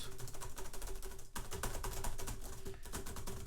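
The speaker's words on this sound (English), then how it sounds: "I'm going to try the keyboard now. This is the noisiest keyboard." Rapid, dense clatter of typing on a loud computer keyboard, close to the microphone and continuous apart from a brief pause, with no speech.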